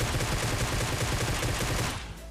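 Rapid automatic gunfire from a battle royale video game, a dense, continuous burst of shots that stops abruptly after about two seconds.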